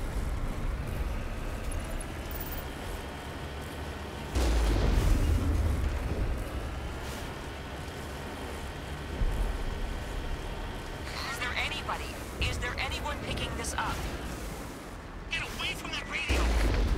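The Mako rover tank fires in the Mass Effect video game with several heavy booming blasts and rumbling impacts spaced through a steady engine-like drone, while a person talks over the action.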